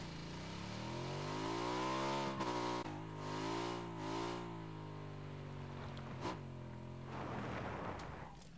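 A motorbike engine in the battle royale game PUBG, revving up and down in smooth sweeping pitch with a loud steady drone, plus a few sharp bangs, all without speech.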